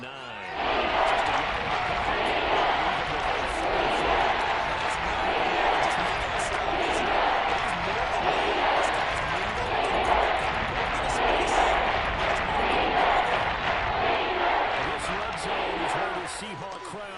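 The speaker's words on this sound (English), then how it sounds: "Seahawk crowd really makes it tough for an offense to communicate." A loud Seahawks stadium crowd roars steadily through an NFL game against the Steelers, a sustained dense wall of cheering that rises and falls slightly, with a commentator talking over it.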